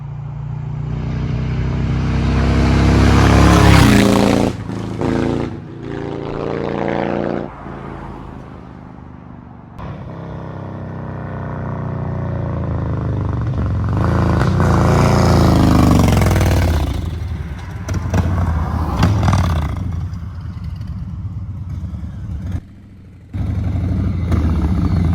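Motorcycle engine revving and shifting while riding, with loud close rising and falling engine pitch sweeps, brief throttle lifts and wind rush over the run.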